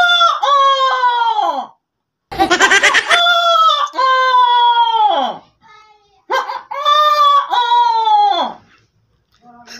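A man imitates a rooster crowing. He gives three long, loud crows alone with no other talk, separated by short pauses. A burst of noise comes near the start of the second crow.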